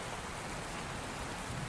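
Gentle rain falls outside in a soft, steady, faint hiss, with no other sounds standing out.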